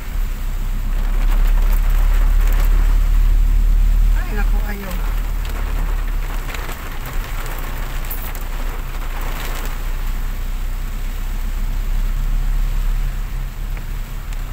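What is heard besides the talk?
heavy rain during typhoon Uwan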